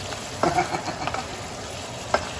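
Rabbit adobo sizzles steadily in a pan while being stirred, with a constant close frying hiss and a couple of brief scraping pushes of the utensil.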